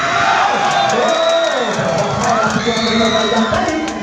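A crowd at a volleyball grand final cheers loudly and continuously, with whoops and shouts over a dense roar that carries on for the whole stretch.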